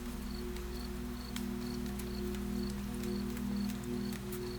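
Steady night rain falling on a porch, a soft continuous patter with scattered drop taps, while insects or crickets chirp in a repeating pulse beneath it; even, moderate and close, with no voices.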